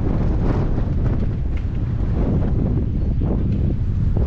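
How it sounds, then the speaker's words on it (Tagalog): Strong cold wind in Abha, Saudi Arabia, roars steadily against the microphone, a loud, continuous buffeting rumble with no voices. "Ang lamig ng hangin."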